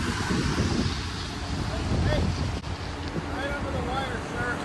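Heavy wind buffets the microphone with a loud, steady roar, gusting throughout a rainy storm in Willow Glen, San Jose, while faint voices and some chirping tones come through underneath.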